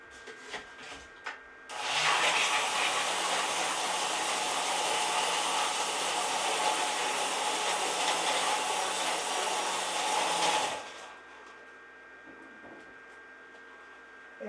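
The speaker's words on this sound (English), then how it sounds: "we're going to do a flash blend in our drink mixer" A drink mixer flash-blends a Three Dots and a Dash cocktail, a loud, steady whirring roar lasting about nine seconds before cutting off, with a few light clinks before and after.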